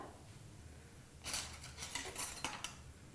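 Urad dal spooned into hot oil in a pan while cooking a potato and drumstick curry, giving a short run of light metallic clinks and a soft patter over about two seconds, close and faint.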